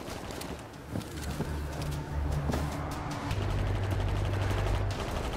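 Gunfire in the World War Z video game: repeated sharp shots and bursts of automatic fire, moderately loud over a steady background of game noise, with no talking.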